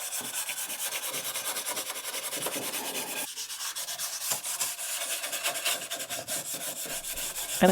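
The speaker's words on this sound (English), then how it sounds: "I wanted to do minimal sanding" Hand sanding on an old wooden tea trolley drawer with delicate thin inlay: a continuous close scratchy rubbing in quick back-and-forth strokes, steady and even with no talk.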